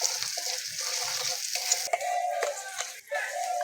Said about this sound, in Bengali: আদাটাকে একটু ভালো করে ভেজে নিয়েছি।